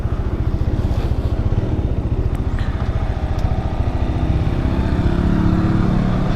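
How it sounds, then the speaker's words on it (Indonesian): A 2014 Honda CB 150 motorcycle is ridden around the cool town of Ruteng with a steady, throbbing engine drone close by that rises slightly in pitch toward the end, accompanied by wind noise. "saya coba untuk test ride motor CB 150"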